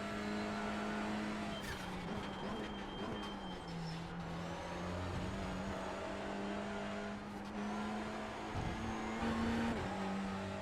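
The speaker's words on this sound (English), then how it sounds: "Whoops, redlining it again." A Honda Civic Type R TCR touring race car at Thruxton circuit drones loudly from inside, its engine note climbing and dipping near the redline with brief shifts in pitch and no talk.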